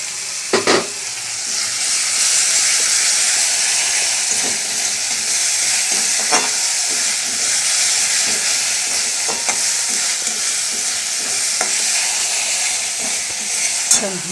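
Food frying in oil in a pan at home, a loud continuous close sizzle and hiss with occasional clicks from stirring.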